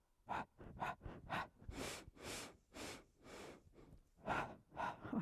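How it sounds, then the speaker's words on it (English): Loud, heavy breaths through a face mask during a Pilates mat exercise, a quick run of short sharp inhales followed by longer rushing exhales and more quick gasps, close up with no talking. "I'm going to hyperventilate in this mask."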